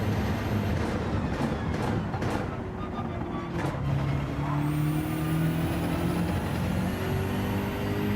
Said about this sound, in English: The Lexus has got great acceleration up to 150.